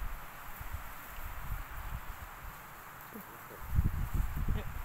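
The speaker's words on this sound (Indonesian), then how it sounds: "Itu suara angin loh." Wind gusting across an open mountainside on Pusuk Buhit in the Batak highlands, a steady rough rush that swells louder toward the end, with low buffeting rumbles against the microphone.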